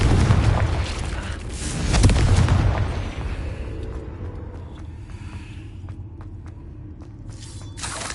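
A Confringo spell detonating in the video game Hogwarts Legacy, a loud booming blast with a second burst swelling about two seconds in, then fading into low rumble and scattered faint clicks.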